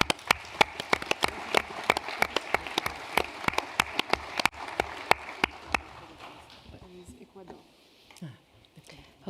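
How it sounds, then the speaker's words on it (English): Delegates at a World Organisation for Animal Health general session applaud the experts: sharp, separate claps from a few hands for several seconds, then thinning and fading to quiet with faint murmur. "for all experts, I think we can make a round of applause."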